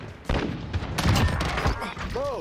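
A gun firing in the shooter game Modern Warfare: a sharp shot, then a dense rapid burst of gunfire with booming low thumps, close and loud, with a brief voice near the end.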